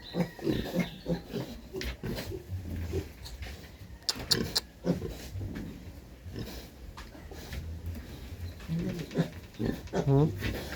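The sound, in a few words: pig grunting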